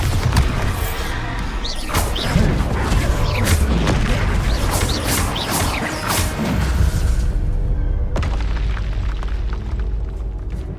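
A Bombarda blasting spell from the Hogwarts Legacy video game erupts in a heavy, booming burst of explosive rumble with crackling debris and whooshes layered over game music, sustained loudly before easing near the end.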